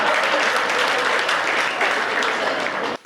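A live audience at a Hindi comic poetry recital breaks into dense, loud applause that holds steady for about three seconds, then stops abruptly.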